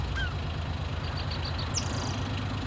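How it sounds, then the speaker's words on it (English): Chickens in a coop in Farming Simulator 19 give short, thin repeated calls and a brief squawk, fairly faint over a steady low engine-like rumble that runs throughout. "Alright, chicken coop."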